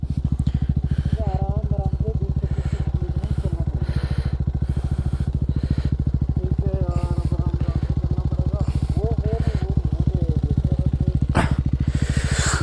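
A motorcycle engine runs steadily up close in the Spiti valley near Kaza, its even low throbbing pulse continuing throughout, with voices speaking briefly over it.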